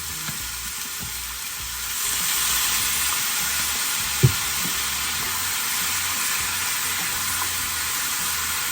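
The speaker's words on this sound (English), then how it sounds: "And we're going to add a little bit of soy." Soy sauce sizzles hard in a frying pan of bok choy noodles, a loud, steady hiss that swells after a couple of seconds, with one sharp clink partway through.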